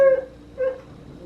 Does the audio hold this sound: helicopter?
no